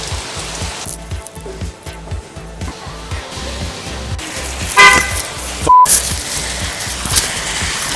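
Heavy tropical downpour on a street in Phnom Penh, Cambodia: a steady loud wash of rain with passing traffic, a car horn tooting briefly and a few sharp clatters near the end.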